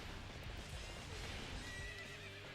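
A horse in the Dynasty Warriors 8 video game gives a loud, close whinny, with clip-clopping hooves and battle ambience behind it.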